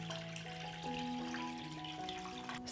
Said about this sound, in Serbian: Sipam hladnu vodu do visine poklopca.